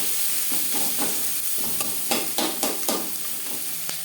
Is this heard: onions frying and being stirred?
yes